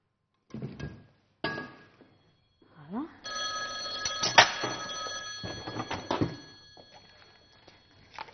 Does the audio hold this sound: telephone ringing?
yes